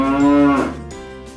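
A single beef cow on an organic farm lets out one loud, close, drawn-out moo that dips in pitch and fades, heard on its own.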